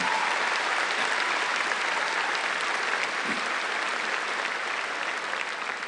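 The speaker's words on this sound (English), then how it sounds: "Let's give a hand to our athletes." A large audience at a college graduation ceremony applauds the athletes in a sustained, dense wash of clapping that holds steady throughout, with no voices above it.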